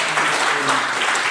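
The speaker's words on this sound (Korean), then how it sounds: "박수하겠습니다." A congregation applauds during a Sunday church service, a dense, even burst of many people clapping together, loud and close, brief and without speech.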